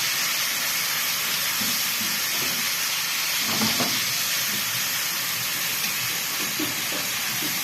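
Beef liver stir-frying in a pan with spices, salt and chili, a steady close hiss and sizzle running throughout with faint scraping clinks.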